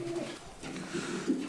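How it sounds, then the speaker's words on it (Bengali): Pigeons coo softly at a fancy pigeon farm in Natore, with a few low, rolling coos rising and falling at close range and no talking. "তো নাইম ভাই, এখানে আমরা কি কবুতর দেখছি?"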